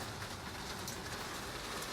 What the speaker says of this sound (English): Raindrops keep falling on my greenhouse.